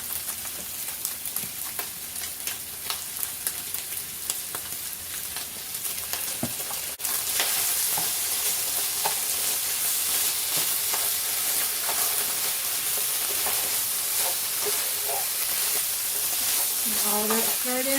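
A bacon cheeseburger mixture with ketchup sizzles in a pan, a steady crackling fry that grows louder midway as it is stirred, with occasional scraping of the spoon.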